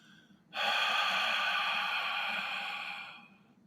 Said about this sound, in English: Together, begin by breathing out as much air as you can, bringing your navel to your spine.